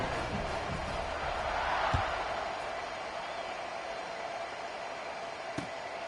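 Stadium crowd noise from College Football 26 before a kickoff after an extra point, a steady loud roar of massed fans that swells briefly near the middle, with a couple of sharp thuds.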